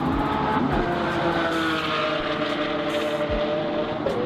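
A Lamborghini Veneno Roadster with a 6.5-liter V12 drones steadily and loudly for the whole stretch, holding an even, close engine tone with slight rises in pitch and no voices.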